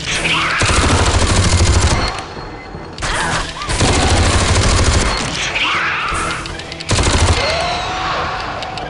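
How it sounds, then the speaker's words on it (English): Minigun fire in the game Aliens vs Predator 2: Primal Hunt, loud sustained buzzing bursts of rapid shots in several long runs with brief gaps between them, close and dominant. "switch to the minigun"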